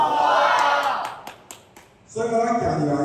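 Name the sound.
crowd applause at a political rally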